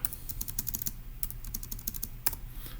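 Fingers tap out a short answer on a computer keyboard, a quick run of light, crisp keystrokes in irregular bursts with a low steady hum underneath and no talking.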